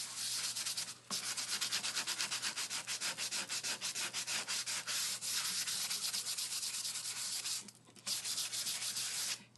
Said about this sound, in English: So we're really just going to sand here.